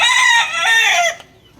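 An old broodcock rooster, nearly three years old, crows loudly and close by, one full harmonic call that trails off into silence.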